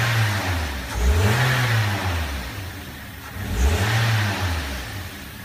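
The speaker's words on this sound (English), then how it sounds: "Give it a few snap throttles." A Toyota Echo engine with a suspected oxygen sensor circuit fault revs up sharply twice in quick snap throttles, each burst rising and falling back toward idle, loud and close with no talking.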